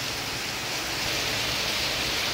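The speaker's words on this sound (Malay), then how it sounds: "Hujan lebat tak berhenti lagi ni." Heavy rain pours down during a flood in a dense, unbroken hiss, loud and close, with no voices.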